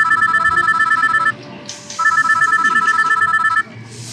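A telephone rings in two loud electronic trilling bursts separated by a short pause, close and clear with no talk.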